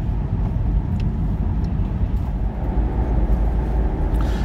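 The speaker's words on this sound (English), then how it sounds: "I'm now going to just take a very, very slow and gentle drive back home" A car drives slowly along the road, its engine and tyre noise forming a continuous, close, heavy low rumble with occasional faint ticks and no voices.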